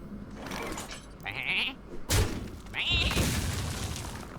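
A Hearthstone Polymorph spell turns a minion into a sheep, and the sheep bleats twice in short wavering cries with a crash between them, all over game music.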